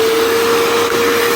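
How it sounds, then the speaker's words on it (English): A Bissell carpet cleaner runs continuously on the car seats of a 1976 Jaguar XJ6 Series 2, giving a loud, steady suction whine with a fixed tone and no pauses or talking. "So I'm going to use my little Bissell carpet cleaner and just see if we can get them."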